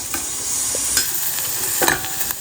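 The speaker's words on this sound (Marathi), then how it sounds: "यामध्ये हे सांडगे टाकायचे आहे आणि हलकेसे आपल्याला तेलामध्ये असे परतून घ्यायचे आहे क्रिस्पी" Dried lentil dumplings (sandge) sizzle as they are stirred and fried in oil, a steady hiss broken by a few scraping clinks of a spoon against the pan, with no talking.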